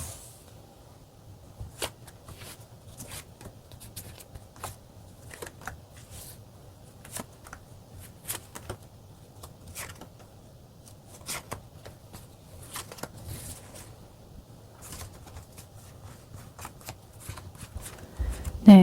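Tarot cards being shuffled and drawn, a series of soft, crisp riffling snaps and slides at close range, spaced irregularly over a quiet background with low hum.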